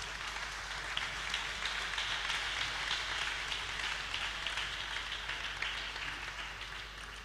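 Students at a public lecture applaud steadily for several seconds, a dense wash of clapping heard from a slight distance.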